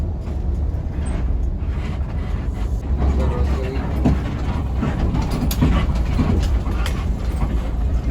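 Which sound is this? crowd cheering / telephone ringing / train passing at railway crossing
train passing at railway crossing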